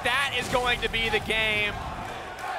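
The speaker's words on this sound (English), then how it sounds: "You can hear the crowd cheer." Crowd at a League of Legends esports match cheering as the game ends, a broad roar running beneath an excited commentator's voice.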